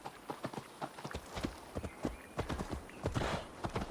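Hoofbeats from a horse ridden in Assassin's Creed Valhalla thud in a quick, close, steady rhythm, with a brief whinny partway through.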